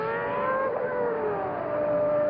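Formula 1 race car engine at the 1990 Brazilian Grand Prix, a steady high-pitched whine with a tone that slides slightly, heard at a distance like a car passing through a circuit, with no one talking.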